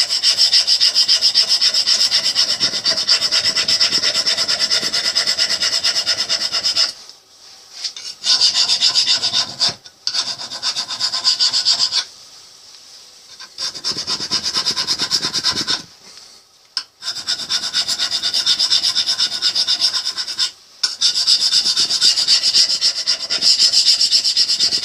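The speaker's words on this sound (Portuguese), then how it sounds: "eu vou usá-lo para raspar a maior parte da ferrugem que haja aqui" Loose rust being scraped off a metal surface with a no-rebound mallet, a loud, continuous harsh rasping in long strokes broken by several brief pauses.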